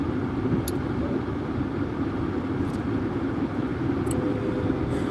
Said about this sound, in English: I don't even know why the traffic is so crazy like this